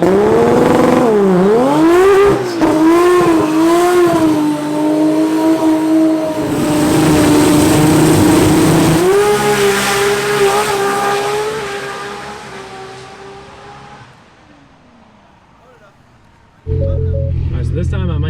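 A Barra-swapped Ford GT350 at a drag strip, engine loud and close as it revs and rises through gears in long pulls, fading away into the distance, with people talking over it.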